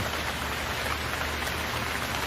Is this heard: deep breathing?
no